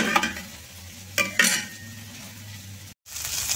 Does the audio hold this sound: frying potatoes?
yes